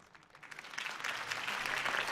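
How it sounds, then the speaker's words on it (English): Crowd applause building after a campaign speech for Harvey Dent in a Batman video game, starting faint and swelling into steady, fairly distant clapping. "If only Mr. Wayne, my campaign's largest backer, could have heard that applause"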